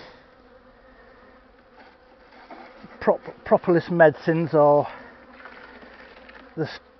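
A soft steady buzz of bees at a hive hums in the background while someone speaks over it, close to the microphone.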